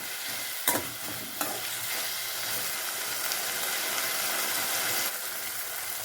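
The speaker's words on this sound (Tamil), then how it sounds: "இந்த எண்ணெயிலே கொஞ்ச நேரம் முருங்காயை வணக்கிக்கலாம்" Moringa drumstick pieces sizzle steadily in hot oil while cooking for sambar, with a couple of sharp stirring scrapes near the start, close and continuous.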